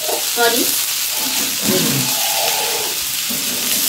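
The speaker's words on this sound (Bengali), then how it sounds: "এই সর্ষে ফোড়ন আর কারি পাতা" Mustard seeds, black cumin and curry leaves crackle in hot oil for a masala dosa potato filling, a loud, continuous hissing sizzle with occasional faint stirring sounds.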